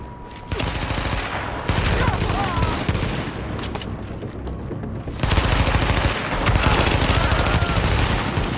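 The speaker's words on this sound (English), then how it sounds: "The machine gun I picked up is pretty nasty." A machine gun in The Division fires long, sustained bursts, loud and continuous with brief lulls, while players talk over the shooting.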